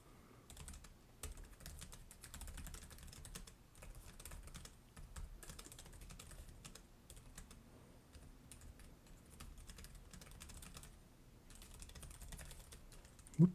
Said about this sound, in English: Let's type on this one here. Like, this is a fantastic keyboard,